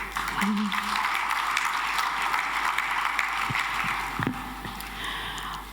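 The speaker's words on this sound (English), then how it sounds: "one more round of applause" A forum audience keeps up a continuous round of applause, a dense wash of clapping from many hands, with a brief voice briefly heard beneath it.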